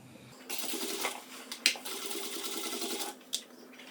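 A sewing machine stitching fabric with the presser foot lowered, one steady whirring run of about two and a half seconds with a few clicks, close and loud, no talking over it.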